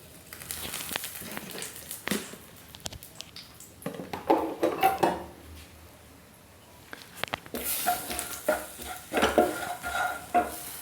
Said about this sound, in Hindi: तो मसाले भून गए हैं